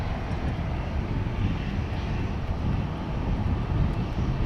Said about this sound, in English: almost full power for that Dreamliner because of the crosswind, because a lot louder than a normal Dreamliner